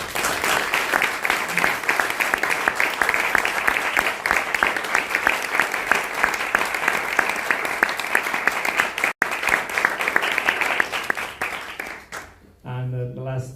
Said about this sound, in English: I would ask another round of applause for our panelists.